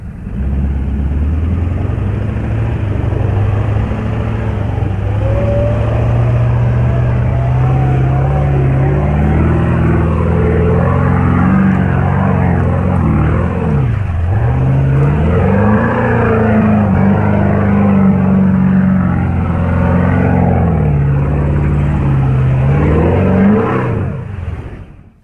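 A 4WD fitted with a turbo-back exhaust roars loudly and steadily under throttle, the engine note rising and dipping through several revs over about twenty-five seconds, with no voices over it.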